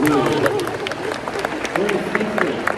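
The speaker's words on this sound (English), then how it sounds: "Give her a huge round of applause." An audience bursts into a short, dense round of applause at a hypnosis show at Canisius College, with scattered sharp claps over crowd murmur and a voice speaking through it.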